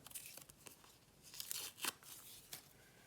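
Several quick papery rips and crinkles in short bursts as a paper surprise packet is torn open, close and fairly quiet, with brief pauses between tears.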